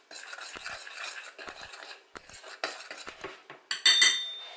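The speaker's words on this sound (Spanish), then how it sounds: "mezclando ingredientes" A utensil clinks and scrapes against a bowl while cake ingredients are mixed, giving a run of irregular close taps and brief stirs with a brighter ringing clink near the end.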